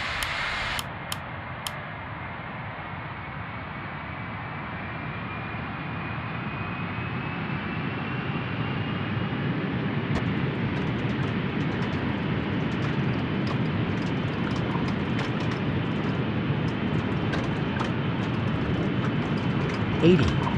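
An airliner takes off in a flight simulator at Seattle–Tacoma International Airport, jet engines spooling up into a steady, building roar that swells over the whole stretch, with brief clicks at the start.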